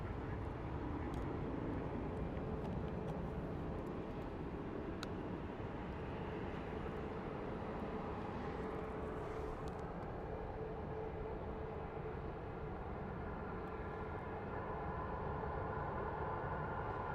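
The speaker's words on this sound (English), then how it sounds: "we have our Frontier about to taxi into position on 25." A Frontier airliner taxis at Phoenix Sky Harbor airport, a continuous low engine rumble and roar that holds steady throughout, distant and heard on its own.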